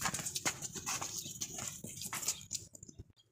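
A heavy, stout goat stepping about, producing a series of irregular hoof thuds and scuffs at close range, fairly quiet overall with short sharp impacts scattered across a few seconds.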